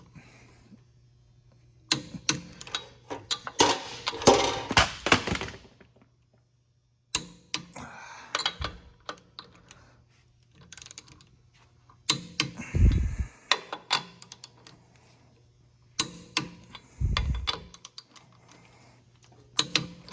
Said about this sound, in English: we're going to throw the torque wrench on there